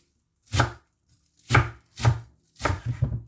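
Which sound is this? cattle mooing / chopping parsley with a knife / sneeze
chopping parsley with a knife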